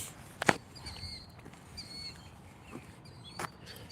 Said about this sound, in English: Oh, these birds drive me nuts.